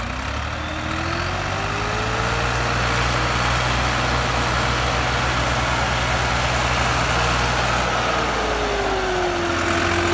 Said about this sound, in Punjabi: ਲਾਲੀ ਦੇ ਟਰੈਕਟਰ ਦੀ ਮੈਂ ਕਿਹਾ ਵੀਡੀਓ ਬਣਾ ਲਈਏ